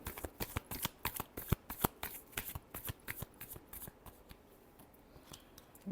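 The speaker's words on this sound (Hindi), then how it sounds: "Last shuffle." Tarot cards are shuffled by hand in a quick series of close, crisp riffling snaps and flutters, with no one talking.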